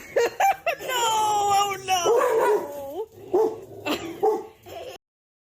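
A dog barks and yips several times up close, with a long rising whine in the middle, under excited voices and laughter in a room with a TV playing.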